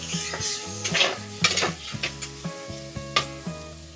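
Chicken is dropped into a pan of fried onions and curry leaves, sizzling loudly with a series of sharp spoon scrapes and clatters against the pan, with a steady musical tone running underneath.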